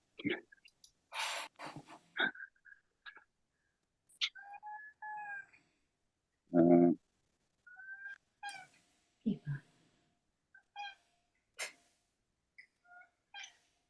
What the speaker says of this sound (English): Sorry, my cat wants to play.